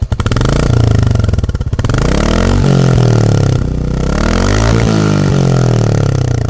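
A 2021 Royal Enfield Classic 350 single-cylinder motorcycle runs close and loud, its exhaust holding a steady, rich drone with smooth rises and dips in engine speed throughout.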